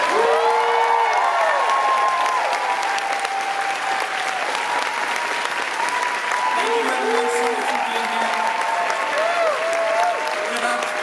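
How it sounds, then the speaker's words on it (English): A Comic Con panel audience in New York applauds the cast and crew of The Expanse, sustained clapping throughout while voices carry over it from the room. "Please give a huge round of applause for the cast and crew."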